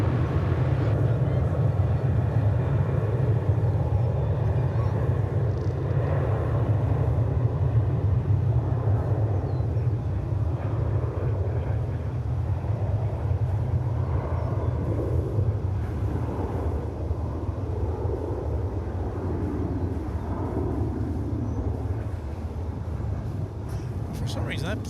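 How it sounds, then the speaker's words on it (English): A bright yellow Spirit Airlines jet at Dallas/Fort Worth Airport in late afternoon gives off a steady, fairly distant engine roar and rumble for the whole stretch, with people talking over it. "That plane seems a lot louder than some of the others that we've seen."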